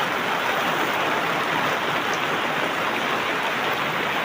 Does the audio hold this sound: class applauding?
no